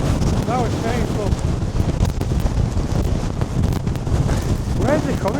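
Strong wind buffeting the microphone on Stanage Edge, a loud continuous roar with heavy low rumble and gusting throughout, and brief bits of voice breaking through the noise.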